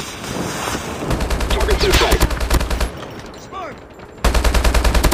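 Rapid HBRA3 assault rifle gunfire in the mobile shooter Call of Duty Mobile, loud close bursts of automatic shots in quick rhythm with a pause before firing resumes, game voice lines briefly heard.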